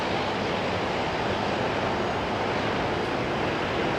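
Air New Zealand Dreamliner jet bound for Melbourne at Auckland International Airport, a steady broadband engine roar that holds evenly throughout with no voices.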